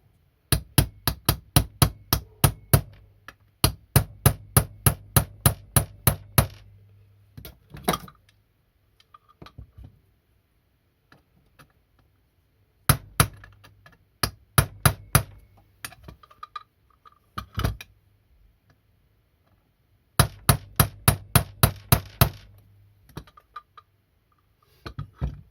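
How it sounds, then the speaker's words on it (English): Sharp metallic taps of a hammer on a punch, fitting crank bearings in a Stihl TS350 Super cut-off saw, in quick rhythmic bursts, a steady run of strikes followed by pauses and more rapid blows, close and loud with no talking. "Get a punch and a hammer."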